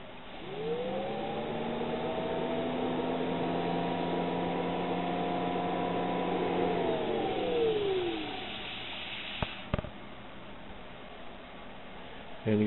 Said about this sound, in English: I got it hooked up to 12 volts here right now, so we can have a little test run on it, see how it sounds